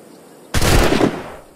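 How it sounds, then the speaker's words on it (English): A single loud gunshot blast in the Assassin's Creed IV Black Flag video game, with an abrupt onset and a roaring decay lasting about a second, heard alone. "Alright, we're just gonna shoot you."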